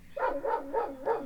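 Strong hunting dogs used to drive wild boar through dense hunting-ground vegetation near Tudela bark four times in a steady rhythm, moderately loud and somewhat distant.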